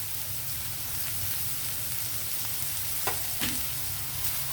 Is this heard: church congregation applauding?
no